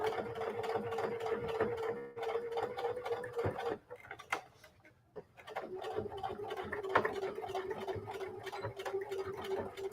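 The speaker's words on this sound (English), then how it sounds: "So I'm going to do a lot of back stitching." A sewing machine back-stitches through thick denim patchwork made from old jeans, producing rapid, even needle ticks with a motor hum. It runs close and steady, pauses briefly midway, then resumes.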